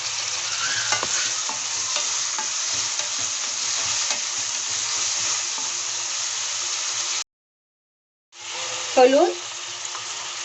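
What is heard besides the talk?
spices and tomato frying and stirred in pan for eggplant curry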